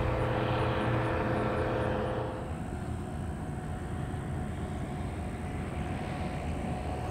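A trike ultralight aircraft's engine drones loudly as it takes off, a steady buzzing roar with a tonal whine that shifts and settles as the craft moves away, alone without talk.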